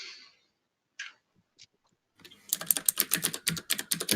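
Rapid, clicky keystrokes on a computer keyboard, loud and close, rattling in a fast continuous burst after a few isolated taps, heard on a Discord stream.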